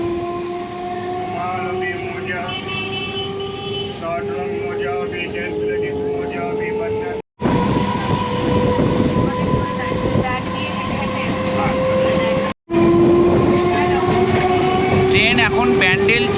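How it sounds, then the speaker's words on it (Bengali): Inside a moving local train carriage, a loud steady rumble and rattle of wheels on rails with sustained tonal whines, running continuously with brief cuts. "এই সকালের লোকাল ট্রেন ভালোই চলে আর সিটও মোটামুটি পাওয়া যায়"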